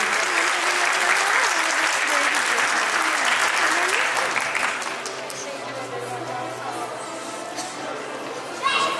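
Audience applause at a communication faculty graduation ceremony, a dense sustained wash of clapping from a large crowd that thins and softens about halfway through, with faint crowd murmur beneath.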